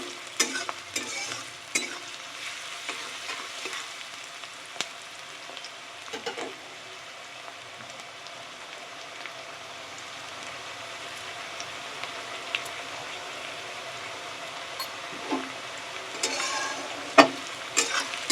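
Sliced onions fry in hot oil for a Bengali chicken chana masala, a steady soft sizzle running throughout while a spoon scrapes and stirs the pan in occasional sharp clatters, close by with no talking.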